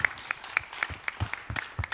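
A small church youth congregation giving a round of applause, with sparse, uneven individual claps sounding distinctly, close and fairly crisp, with no speech over them.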